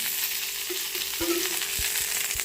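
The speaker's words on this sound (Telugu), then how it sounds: "నైట్ అయితే సల్మాన్ వేసుకున్నామండి అందరం ఆయిల్ వేసుకున్నాం" Salmon frying in hot oil in a home kitchen gives a steady, bright sizzle, with a few soft utensil knocks and scrapes underneath.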